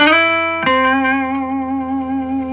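A guitar played on the neck pickup through a restored 1966 Gibson Minuteman amp with volume, treble and bass at halfway and no reverb or tremolo: a single sustained note, then a fresh strummed chord ringing on with slight wavering decay, loud and alone.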